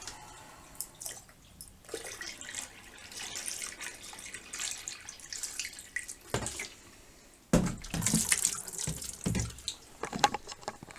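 In a travel trailer shower, plumbing antifreeze is poured into the drain in bursts, giving close, splashy trickles and gurgles between quieter pauses with small clunks.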